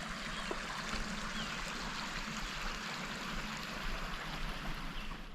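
A small river flows through a desert canyon, giving a steady, continuous rush of water close by, even and unbroken throughout with no voices.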